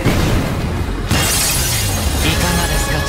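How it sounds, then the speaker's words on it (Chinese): Walls smash continuously during an anime fight between Baki Hanma and his father, a dense, loud roar of crashing and crumbling debris that surges sharply about a third of the way through. "永次郎不知砸破了多少墙。"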